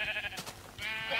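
Sheep bleating in Minecraft, two close bleats separated by a short pause, nasal and wavering, with no talk over them.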